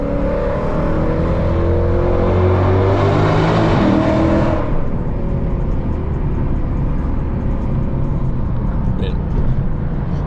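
A tuned, catless Lexus RC F V8 drives on the road, a loud steady engine drone with a rising rev surge early on that then settles into a constant cabin rumble, with a voice speaking over it.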